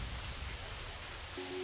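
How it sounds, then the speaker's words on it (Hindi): Heavy rain falls in a dense, steady hiss, a continuous even wash of drops with no breaks. "बहुत तेज बारिश हो रही है"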